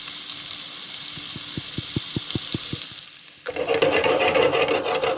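Garlic and oregano sizzle in oil in a pan, a steady hiss with a row of quick scraping strokes, then a louder, denser burst of frying as more goes in.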